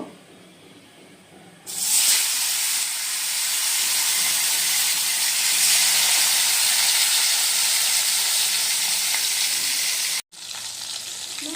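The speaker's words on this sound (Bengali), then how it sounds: "আমাদের তেল কিন্তু গরম হয়ে গেছে। আর এখন মাছগুলো ভেজে নেব।" Loud, continuous hissing sizzle as koi fish goes into hot oil, starting abruptly after a quiet moment and crackling steadily, with a brief cut near the end.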